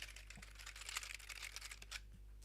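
Rapid clicking keystrokes on a music device's keys, clattering like an old computer keyboard, run close and steady for most of the stretch over a low electrical hum, then thin out toward the end.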